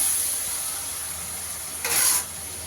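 Tomato frying in a pan for kofta curry, a steady faint sizzle with a brief louder hissing burst near the end, no talking.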